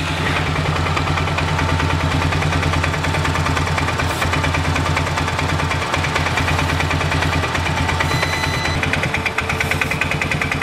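A Polaris Sportsman 500 ATV engine idles steadily and loudly close by, a continuous low rumbling chug with a faint knocking pulse and no talking.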